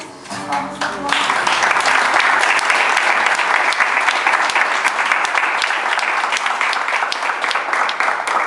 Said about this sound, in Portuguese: As palmas de glória.